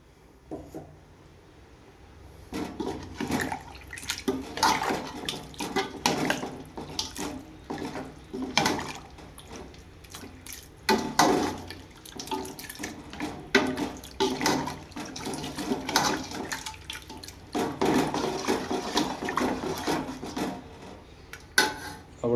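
Water pours and splashes into a pan of cooking broiler chicken for chicken fry in uneven bursts, with scraping and stirring sounds between pours, close and moderately loud.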